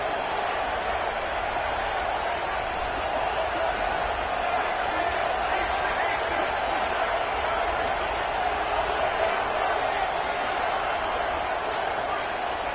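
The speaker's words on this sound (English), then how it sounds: "Crowd getting this defense whipped up on third down." Stadium crowd at a football game roars steadily through a third-down play, a dense, continuous wash of cheering with a play-by-play announcer talking over it.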